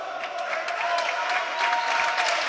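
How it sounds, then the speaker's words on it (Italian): An indoor basketball arena crowd at the Palavenali, during a Serie B game between Eurobasket Roma and Montegranaro, applauds a substituted player with sustained, dense clapping that stays at an even level for the whole stretch. "esce proprio Giulio Casale che si prende l'applauso del Palavenali"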